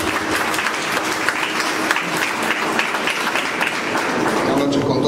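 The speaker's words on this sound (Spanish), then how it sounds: "Le brindamos el aplauso." Audience in a cultural centre in Miraflores applauding a municipal culture manager, dense hand clapping steady and close for about five seconds, voices faintly under it.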